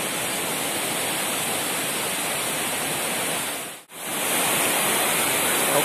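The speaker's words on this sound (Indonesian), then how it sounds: "sekarang saya berada di air terjun" A forest waterfall roars as a steady, loud, broadband rush of falling water that fills the whole span, with a brief dropout near the middle and no voices.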